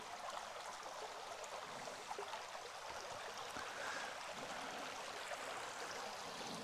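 A creek in Ouachita National Forest flowing gently, a soft, steady babble and trickle of running water heard from nearby, fairly quiet and unbroken throughout.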